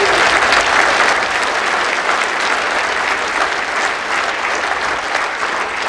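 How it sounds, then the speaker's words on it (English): Steady, loud applause from the crowd at an indoor bowls match at Potters Resort during the World Indoor Bowls Championship, a dense clapping wash with no gaps that eases slightly after the first second. "crowd here at Sean Mawdsley. Potters Resort, very appreciative of that shot by Sean Mawdsley"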